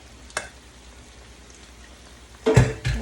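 Water is poured into a hot wok while hilsa fish cooks. A faint sizzle runs under a single early click, then two loud hissing bursts of spitting steam come near the end.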